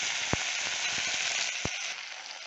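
Chopped tomato sautés in a pan for thippili rasam, a soft even sizzle with a couple of sharp utensil taps against the pan, quiet and close with no voices.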